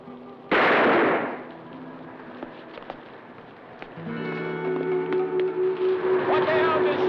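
A single loud gunshot-like burst cracks out near the start and decays into a noisy scene, followed by a steady rhythmic mechanical drone, aboard a boat at sea.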